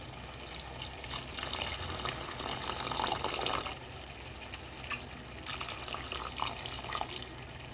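Hot water poured from a kettle into a cooking pot of fish and rice, a steady close splashing pour that stops briefly and then resumes.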